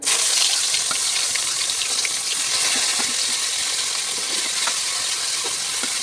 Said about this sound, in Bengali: তেলটা গরম হয়ে গেছে, এর মধ্যে আমি দিয়ে দেবো ফুলকপিগুলো।